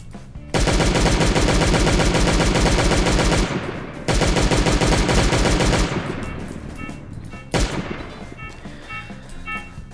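In Last Day on Earth, the player's gun fires long, loud, rapid automatic bursts at close range, with two extended volleys and a final shorter burst, separated by brief pauses.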